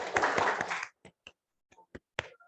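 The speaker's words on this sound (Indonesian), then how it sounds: "Ya, tepuk tangan dulu" Children clap their hands together during a classroom teaching session: a brief dense burst of clapping that stops abruptly, followed by a few scattered single claps and small knocks in near silence.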